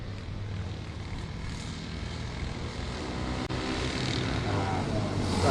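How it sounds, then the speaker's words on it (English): Rotax Max racing kart engines roar during a karting championship race, a steady dense engine drone that holds throughout and swells slightly near the end, with no voices. "they can't really hear each other over the roar of the engines"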